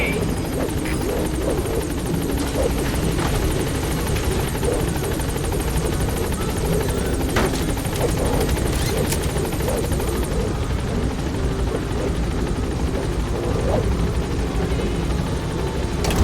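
Pequod, the support helicopter in Metal Gear Solid V: The Phantom Pain, arrives at a landing zone with a steady, loud rotor thrum that holds unbroken for the whole stretch. Radio-style voice lines run over it.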